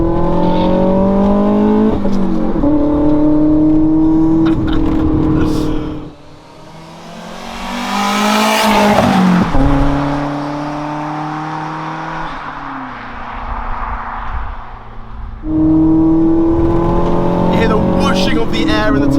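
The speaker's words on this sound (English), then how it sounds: "I will drop into second gear, Boris, and put the foot down, and you will hear the turbo come in" A turbocharged Nissan Micra accelerating hard in second gear, the engine note climbing in rising sweeps with turbo whoosh and flutter between gear shifts, loud and close from inside the car.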